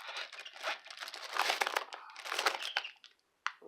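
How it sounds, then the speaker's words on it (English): Plastic packaging of a diamond painting kit crinkling and crackling up close during an unboxing. Busy, continuous rustling bursts run for about three seconds, then pause briefly before a final sharp crinkle, with no talk. "Sorry for all the crinkling"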